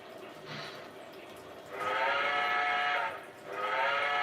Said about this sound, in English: That's your whistle, buddy.